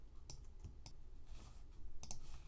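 Computer mouse clicks during 3D modeling of a scabbard: several crisp, quiet single clicks spaced apart over a low background hum, with no talk.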